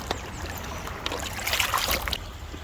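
A WPL C24 RC crawler drives into water, giving continuous splashing and sloshing with a steady wash of churning water for a few seconds and no talking.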